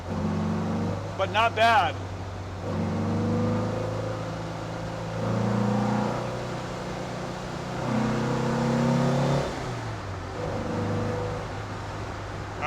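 A car engine fitted with Weber 40 IDF dual carburetors idles and revs in throttle jabs, hovering between rich and lean, with someone talking over the steady engine drone.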